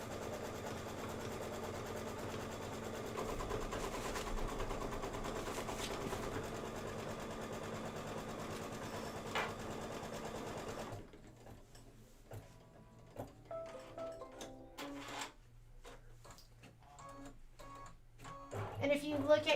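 Embroidery sewing machine stitching a tack-down on a Kimberbell design, a steady rapid mechanical whir for about eleven seconds that stops, followed by quieter clicks and handling noises, with a person talking.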